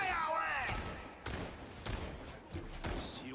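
Video game gunfire from a competitive shooter match, several sharp bursts and thumps spaced across a few seconds, heard amid a player's voice and game sound.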